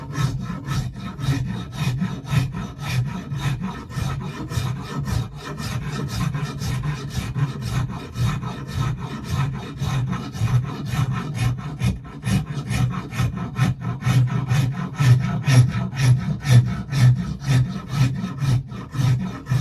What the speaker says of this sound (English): See how I'm rolling that rasp?